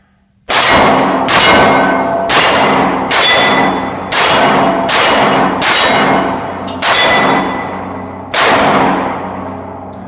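A Glock 27 pistol fitted with an extended finger magazine fires six loud, sharp shots outdoors at an uneven pace, each crack ringing out with a long echoing decay before the next.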